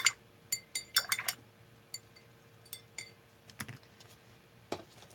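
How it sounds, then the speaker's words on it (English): A paintbrush is rinsed in a glass of water, giving faint scattered clinks and taps of the brush against the glass in irregular bursts, with a quiet background and no speech. "Let me rinse my brush."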